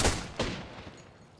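Two sharp gunshot bursts in quick succession in the video game Apex Legends, the second fading into a rumbling echo.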